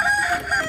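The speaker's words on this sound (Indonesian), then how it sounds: "Wow, ada juga si ayam jago." A rooster on a farm crows in one sustained call, clear and fairly close, with no voices.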